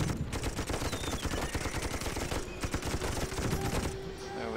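Rapid turret gunfire from the Toy Soldiers video game, a dense continuous stream of shots with overlapping bursts that runs loud and steady throughout with no talking.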